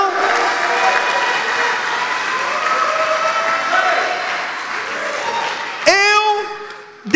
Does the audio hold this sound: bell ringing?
no